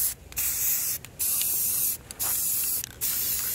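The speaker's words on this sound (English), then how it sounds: "spray paint it." A spray paint can spraying outdoors in four steady hissing bursts of roughly a second each, separated by short pauses, loud and close with no talking.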